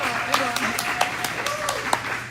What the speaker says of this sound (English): let's go ahead and give a round of applause to Angela for coming